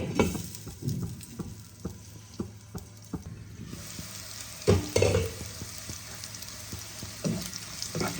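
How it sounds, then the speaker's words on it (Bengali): Chopped onions frying gently over low heat in a covered pan for a Bengali shol fish kalia, a steady soft sizzle with scattered clinks and stirring knocks from a spatula, close and moderately quiet. "পেঁয়াজটাকে লাল লাল করে ভাজবো"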